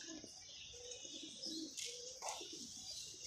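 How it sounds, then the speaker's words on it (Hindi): Pigeons coo softly on a rooftop on a windy day, with a few light chirps against a breezy outdoor background. "आसम भाई के कबूतर उड़े हुए हैं"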